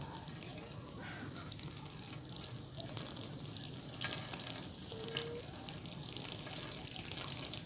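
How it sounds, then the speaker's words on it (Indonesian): Water poured onto a potted adenium plant and dripping from it, a faint, uneven trickle and patter with small splashes, quiet and close, heard without talk. "Siram aja sampai air menetes ya."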